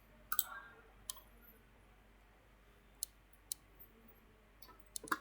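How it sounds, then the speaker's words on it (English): Mouse clicks while working in SAP software on a computer: about six sharp, quiet clicks spaced irregularly over a near-silent background, one pair close together near the start and another at the end. "click on background."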